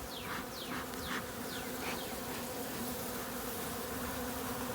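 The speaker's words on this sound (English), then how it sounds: "A lot of bees right here, a lot of bees." Honeybees buzzing in an opened beehive during a first honey harvest, a steady, fairly quiet swarm hum with passing individual bees, no talking.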